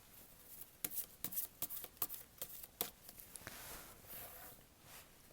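Tarot cards shuffled by hand, a quiet riffling patter of quick card flicks and slaps in an irregular rhythm, then easing into a softer continuous rustle near the end.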